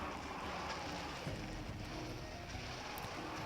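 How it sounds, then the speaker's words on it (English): A steady rushing wind from Monster Hunter 4 Ultimate, broad and unbroken, blowing for the whole stretch with no voices and no obvious breaks. "That wind effect."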